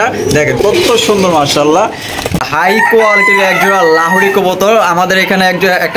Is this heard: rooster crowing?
yes